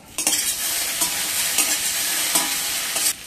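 Potatoes with salt being stir-fried in a pan for a fasting-day potato dish: steady close sizzle with a few louder scraping stirs, no voices.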